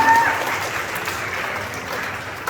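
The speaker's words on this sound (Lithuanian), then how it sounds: "Plojam, plojam, plojam" Audience applause at a school Halloween event as award winners are announced, a steady, dense clapping that stays fairly loud throughout and tapers slightly toward the end, with no voices over it.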